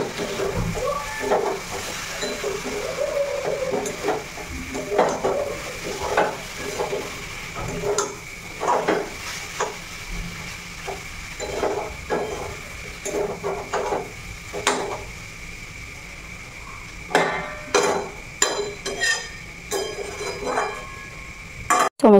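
Spiced chicken is stirred and fried down in a pan for kosha, with a steady sizzling hiss under repeated scraping and metallic clinks of the spoon against the pan, close and fairly loud throughout.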